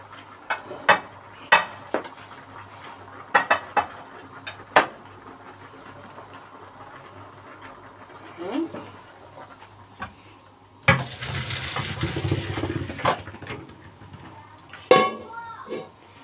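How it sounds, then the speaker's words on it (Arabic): Pasta boiled for eight minutes is tipped from a cooking pot into a strainer, bringing clanks of metal pans, a steady gushing pour of hot water and a final knock of the pot. "هبتدي بقى دلوقتي ادلقها في المصفى"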